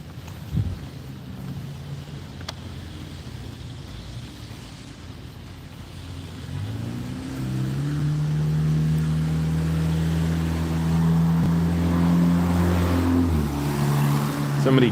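A tricked-out Plymouth or Chrysler passes on a Sun Valley street, its engine drone swelling and holding loud and near over several seconds, heard from inside a 2000 Toyota Camry.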